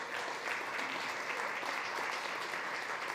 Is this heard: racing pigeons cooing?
no